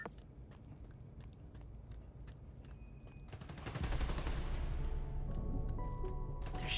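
Gunfire in Marvel's Spider-Man: Miles Morales, with scattered sharp shots and footsteps at first, then a louder dense fusillade of rapid automatic fire and crashing impacts that continues to the end.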